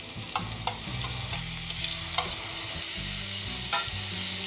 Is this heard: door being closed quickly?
no